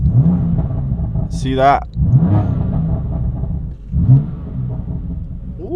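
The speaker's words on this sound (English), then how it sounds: "And now I've started the car" A BMW F80 M3's engine idles with a deep rumble and is blipped several times in close succession, each rev rising and falling. A person talks over it.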